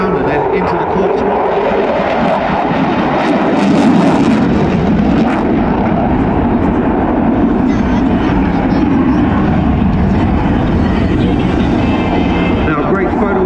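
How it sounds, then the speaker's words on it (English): At an air show festival of flight, an aerobatic plane flies a corkscrew manoeuvre, its loud propeller engine droning continuously with shifting pitch as it rolls and pulls around, while a commentator talks over it. "Corkscrew, pull the aircraft around and then into the corkscrew."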